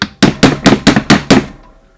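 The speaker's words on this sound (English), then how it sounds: "just tap one of the flats of your nut and it'll come right off" A hammer taps a nut on a stroker CP3 fuel pump: six sharp, evenly spaced metallic strikes in quick succession, loud and close, then quiet.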